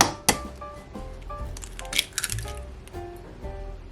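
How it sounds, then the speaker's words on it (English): An egg cracked against the rim of a small bowl or large mug, with a sharp crack near the start and another brittle tap around two seconds, followed by soft squishy shell and liquid sounds nearby. "So the first thing we're going to do is crack an egg into here."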